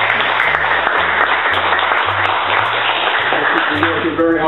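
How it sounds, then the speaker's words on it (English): An audience at a Blue Water Family equinox and solstice event in London breaks into dense, continuous applause, with a low tonal hum running beneath the clapping. "if we could give her a round of applause please"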